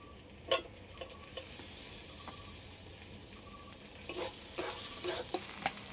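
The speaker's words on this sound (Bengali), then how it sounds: "সবগুলো একসাথে একটু ভালো করে কষে নেব টমেটো কুচানো" Masala with chopped tomato sautéing in a pan for a rupchanda fish curry: a steady, close oily sizzle with a few sharp spoon scrapes and taps, and no talking.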